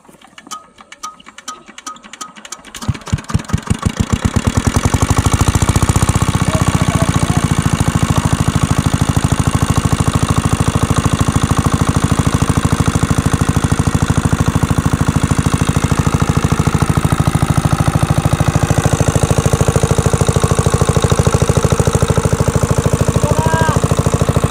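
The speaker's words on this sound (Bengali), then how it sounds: "তো বন্ধুরা অবশেষে মেশিনটি স্টার্ট হয়ে গেল।" A shallow water pump engine starts up, sputtering in rising chugs before settling into a loud, steady mechanical running drone that continues throughout.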